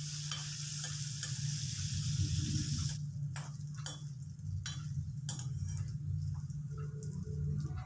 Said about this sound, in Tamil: தேங்காவும் இஞ்சியும் எண்ணெயில் நல்லா வதங்கணுங்க